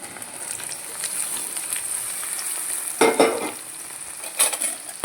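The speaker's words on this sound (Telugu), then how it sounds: "ఇప్పుడు వేసుకున్నాం వేసుకున్నా గోరు చిక్కుడుకాయ" Cluster beans with onion sizzle and fry in a pan while being stirred, a steady close hiss broken by louder scraping stir strokes around the third and fourth seconds, with no talking.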